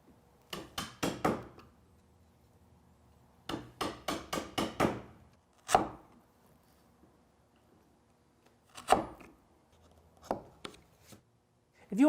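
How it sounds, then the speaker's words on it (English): A wooden mallet drives a chisel to clear waste from dovetail sockets, in rapid clusters of five or six sharp knocks alternating with single isolated taps and quiet pauses, close and crisp. "There's just a little bit of waste to clean up in those sockets. It's pretty quick work with a chisel and a mallet."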